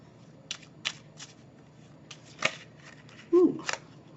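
Tarot cards shuffled by hand, a handful of quick crisp riffles and flicks spaced across a few seconds in a quiet room, with a brief vocal sound near the end.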